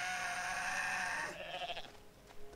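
A goat in the Goat Simulator video game bleats in a loud, sustained, wavering cry that fills the first second and a half. Then it breaks off into quieter scattered in-game sounds.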